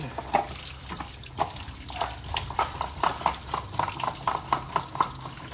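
An improvised snake cage being washed under running water, with a continuous stream running from a tap and a string of rhythmic scrubbing and splashing knocks close by, no talking.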